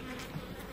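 Honey bees of a small split colony buzz in their hive while frames of comb are added, a low steady hum of many wings lasting under a second, faint and close with no voices.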